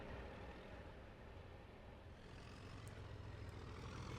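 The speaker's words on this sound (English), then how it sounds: "Oh, another Class 37 pulling a train of vans." A Class 37 diesel locomotive hauling a train of vans on a branch line in Trainz Simulator 3, a low continuous engine rumble passing at slow speed, steady and moderately distant with no voices.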